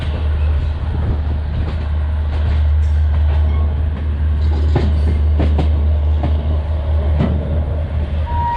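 Trains standing in the New Delhi railway yard, with a steady low rumble of idling locomotives under scattered metallic clanks and knocks throughout, loud and close with no talk.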